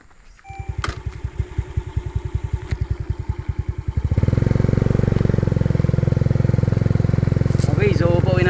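A motorcycle engine chugs in a steady rapid pulse, then revs up into a louder continuous roar close by as it digs into soft ground, with faint voices in the background.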